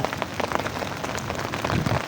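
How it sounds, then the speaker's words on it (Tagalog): Rain falling outdoors, a dense steady patter of drops striking surfaces close by, fairly loud and continuous throughout with no voices. "Ayan na ang ulan."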